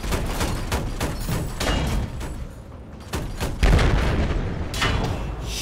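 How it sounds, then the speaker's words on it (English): Missile explosions and booming impacts pound through a Battlefield 4 battle, loud and continuous, with repeated heavy thuds and crackling blasts and no clear talk. "Hostile missile inbound, I say again."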